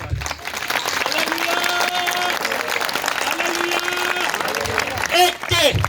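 A congregation claps loudly and continuously during a Hindi-Urdu church sermon. The sustained applause runs throughout and mixes with crowd voices and tonal sounds.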